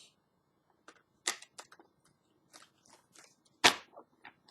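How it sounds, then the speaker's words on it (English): Tarot cards are shuffled by hand for a spiritual love reading: scattered soft snaps and flicks, with one sharper riffle burst near the end, close and quiet, with no talking. "give me a minute to go ahead and shuffle"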